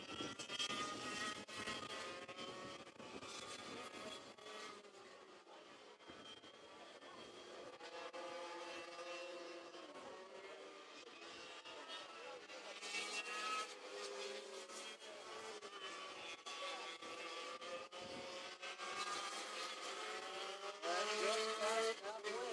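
Racing karts lap the track at the Purdue Grand Prix, with several engines buzzing and droning as they pass, rising and falling in pitch, loud and continuous with occasional louder passes near the end.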